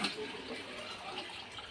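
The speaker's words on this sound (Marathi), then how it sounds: "चला आता पाणी भरत आहोत" Water runs steadily from a tap into a container being filled, a continuous soft splashing rush heard close by at moderate level, with no pauses.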